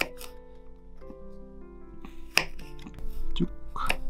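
A kitchen knife slices garlic into thin strips, giving a few sparse, sharp taps against the board over soft, steady background music.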